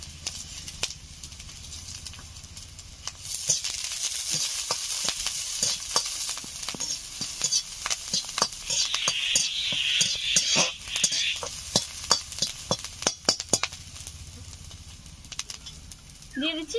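Green chilli, garlic and ginger fry with onions in a pan, a continuous sizzle punctuated by many sharp spatula taps and scrapes, with a louder burst of hissing in the middle and no talk.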